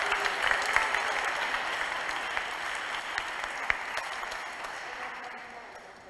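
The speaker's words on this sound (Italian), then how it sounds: "Un applauso veramente di cuore." Sustained applause from a church congregation at a Catholic Mass honouring Venerable Francesco Convertini, steady dense clapping that slowly fades toward the end, with faint voices mixed in.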